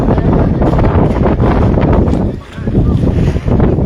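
Strong sea wind near Cox's Bazar buffets the microphone in a loud, continuous roar of low rumble, briefly dipping before gusting back at full strength.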